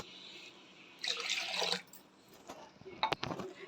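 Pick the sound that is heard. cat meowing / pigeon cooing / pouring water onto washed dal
pouring water onto washed dal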